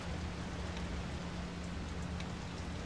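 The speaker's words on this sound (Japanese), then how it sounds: "めっちゃ雨降った。" Steady heavy rain falls in the video game Fatal Frame, a dense, continuous wash of hiss with a low hum beneath and no voices.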